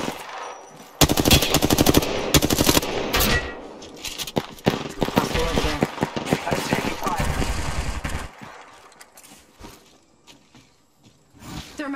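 Gunfire in a first-person shooter video game: loud, rapid automatic bursts and shots crowding the first two-thirds, then tapering into quieter scattered sounds near the end.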